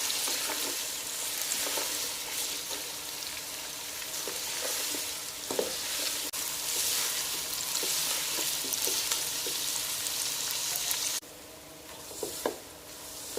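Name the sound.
onions frying in oil for biryani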